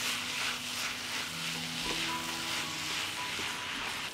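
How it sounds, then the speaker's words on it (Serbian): Shredded cabbage with ground sweet red paprika frying over low heat in a pan, a steady close sizzle with occasional scrapes of stirring throughout. "Sve ću ovo promešati i pržiti na nižoj temperaturi 30 minuta."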